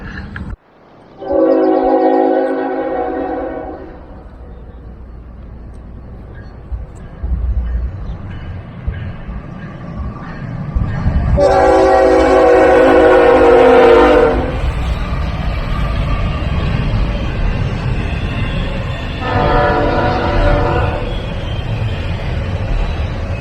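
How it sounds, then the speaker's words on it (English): A train rumbles past loudly, sounding its horn in three long blasts, the middle one loudest, over the continuous roar of wheels on track. "train is a moving, let me tell you. How fast that is."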